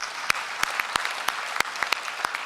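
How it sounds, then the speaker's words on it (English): Sparse, distinct claps from a conference audience at a blockchain event in Kampala, a modest round of individual hand claps spaced irregularly over a light background. "They deserve a round of applause."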